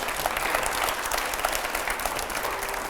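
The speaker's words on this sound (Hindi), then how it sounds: "पहले जोरदार तालियां" A studio audience on a televised panel discussion breaks into strong, continuous applause, many hands clapping densely and evenly at close range for about three seconds.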